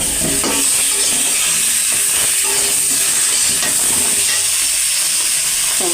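Tomato, ginger and cumin paste fries loudly in a pan, giving a steady hiss and sizzle with occasional stirring scrapes and no talk over it.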